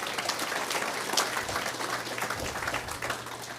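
An audience at a police department's real-time crime center grand opening and ribbon cutting claps for Sergeant Garris and Detective Hamilton, a steady moderate round of applause throughout with no talk over it.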